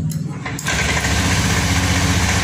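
A motorcycle engine, just back from injector cleaning, cranks and catches, then settles into a loud, steady idle close to the microphone.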